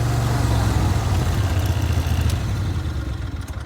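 Low, steady ride-on mower engine idle with a slight clatter, running close by and gradually easing off in level.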